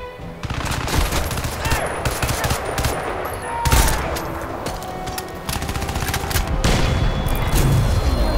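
Sustained automatic gunfire in the video game Crysis 2, loud rattling bursts with a heavier boom partway through, continuing almost without pause over the whole stretch.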